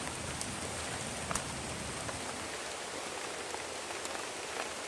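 Dense, steady heavy rain hisses continuously, with occasional louder drops pattering on a nearby surface.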